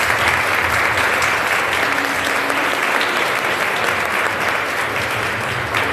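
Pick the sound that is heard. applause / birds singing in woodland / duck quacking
applause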